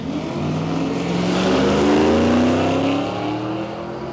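A Ford Bronco on a drag racing run at Palmyra Raceway, its engine revving hard and climbing in pitch as it accelerates down the strip, loud and close, then easing off near the end.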